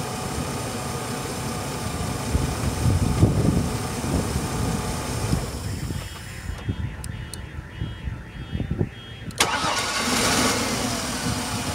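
Car starter motor cranking the engine during a starter relay test, a loud whirring crank that runs for several seconds, pauses briefly, then cranks again, with faint voices in the background.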